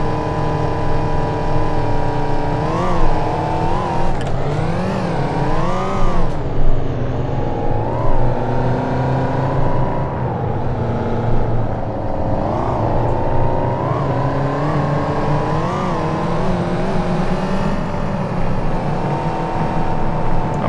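A car engine in City Car Driving drones loud and steady while off-roading, its revs wavering up and down with repeated throttle changes over rough ground.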